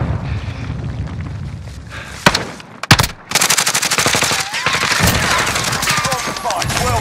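Automatic gunfire rattles through a video game shooter, loud and close, with isolated sharp shots early on, then a dense, sustained burst of rapid rounds continuing to the end.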